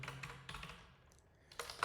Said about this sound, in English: Let's simply type it